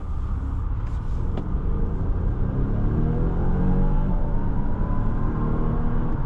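Volvo XC60 T8 Polestar Engineered accelerating, a steady low drone of engine and road rumble heard from inside the cabin, with a faint rising tone.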